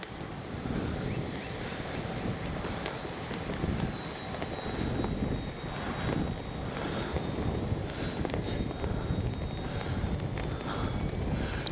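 FMS Ranger RC airplane flying in stability mode on a windy day, its electric motor and propeller giving a steady, distant airborne drone with wind noise across the whole stretch.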